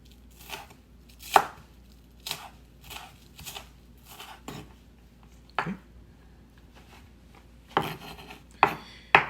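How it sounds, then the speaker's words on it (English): A knife chops a cucumber into pieces on a cutting board. The crisp chops come irregularly and close up, with some louder strikes among lighter cuts and quiet gaps between them. "we'll cut the cucumber also about 2 inches wide"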